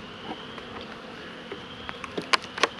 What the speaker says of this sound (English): I got 1, 2, 3, 4 frames of bees. It's starting to rain. They're not happy right now